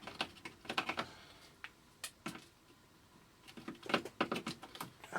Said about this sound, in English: Get them legs cut off.